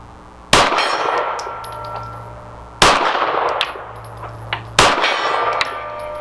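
Three loud ringing clangs of 9mm bullets from a Walther PDP striking a steel gong target outdoors, each sharp hit followed by a shimmering metallic decay, spaced about two seconds apart.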